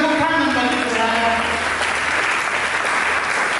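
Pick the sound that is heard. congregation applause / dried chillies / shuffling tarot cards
congregation applause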